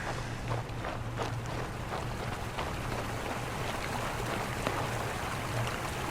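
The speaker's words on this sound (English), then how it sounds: "Nice sound of a waterfall." Steady rushing waterfall in the fantasy video game King's Bounty 2, a continuous broadband roar with no breaks, moderately quiet and heard alone without talk.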